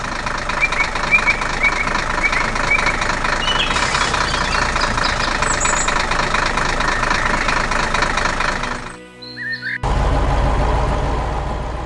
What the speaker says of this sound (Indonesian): Traktor merah sedang mengebor tanah di hutan, membuat lubang besar di bawah tanah.